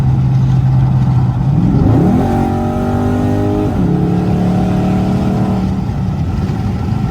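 A Dodge Charger SRT8 on a back road, its engine droning steadily and then revving up through rising gear pulls, loud and close throughout with a constant road roar underneath.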